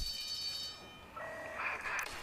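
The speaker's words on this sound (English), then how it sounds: "Ring that bell. Oh, fire alarm." Fire alarm bell placed in the SimCity city-building game: a steady electronic ringing alarm tone that dips, then returns with a higher warbling buzz, moderately loud and heard alone.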